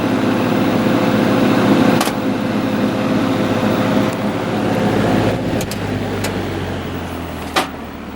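A 1950s GE box fan motor runs steadily at high speed, a close, even hum with a whirring drone and a few faint clicks, with no one talking.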